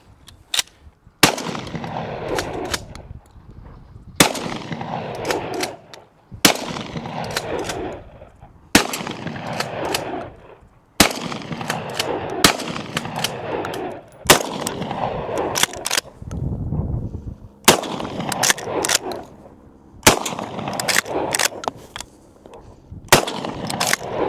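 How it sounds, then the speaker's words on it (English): A Smith & Wesson Model 916 Alpha 12 gauge shotgun fires in the Arizona desert: about ten loud, sharp blasts at a few-second intervals, each with a long ringing decay, and clattering handling noise between shots. "Smith & Wesson shotgun."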